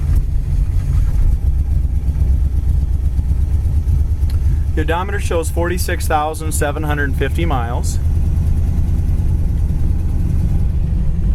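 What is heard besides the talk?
1956 Mercury Montclair engine running with a slight sputter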